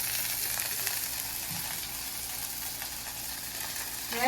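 Oil heating and starting to fry in a clay pot while preparing a Sri Lankan spicy prawn curry, giving a steady close sizzle with faint crackles throughout.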